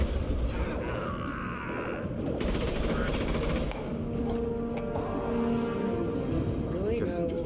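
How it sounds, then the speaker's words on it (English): Mass Effect 2 firefight with Blue Suns mercenaries and Vorcha, bursts of automatic weapon fire amid game noise and mechanical sounds, with character dialogue over the action. "The Blue Suns and Vorcha are shooting anything that moves."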